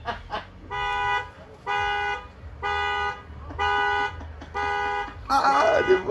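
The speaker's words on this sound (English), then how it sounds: "I press my red button and my alarm goes off" A car alarm blaring nearby in Blackpool, five evenly spaced loud electronic tones in a regular on-off rhythm, followed by a burst of noise at the end.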